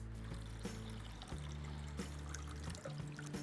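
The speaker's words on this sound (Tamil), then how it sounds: "இது மாதிரி தண்ணியை ஆன அளவுக்கு கம்ப்ளீட்டாக ட்ரெயின் பண்ணிட்டுங்க" Soaking water drained off soaked urad dal while making Chettinad paal paniyaram, a steady close pour and trickle of water with a low hum beneath, no talking.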